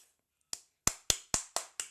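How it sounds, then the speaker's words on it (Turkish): Five or six sharp, isolated handclaps come in a quick, fairly even rhythm after a short silence. They are close and crisp, like one person clapping alone in a quiet room. "Alkış."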